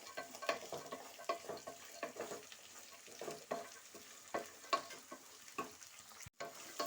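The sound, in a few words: coconut pieces frying in oil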